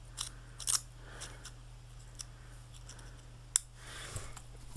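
Small scissors trimming paper into stamp-shaped square labels, a few soft, quiet snips and clicks spaced apart over a faint steady hum, close by.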